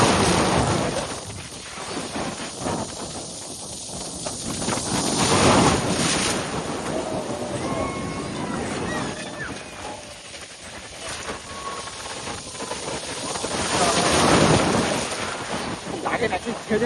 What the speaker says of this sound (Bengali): ওই যে বড় ঢেউ একটা আসছে